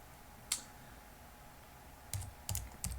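A few sharp computer keyboard keystrokes land near the start and in a quick cluster toward the end, with a steady low room hum beneath them.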